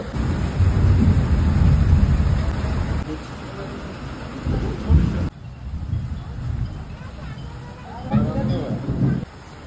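Heavy monsoon rain pours outside a roadside tea and chop stall, with deep thunder rumbling through a dense wash of rain. Nearby voices murmur beneath it, and the storm eases briefly partway before swelling again.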